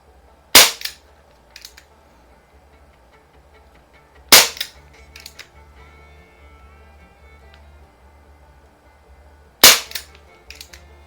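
A Crosman Vigilante .177 CO2 revolver, patterned after the Colt Python 357, fires three sharp, loud pops spaced several seconds apart, each followed by a faint metallic clink, with no talking.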